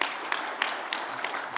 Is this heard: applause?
yes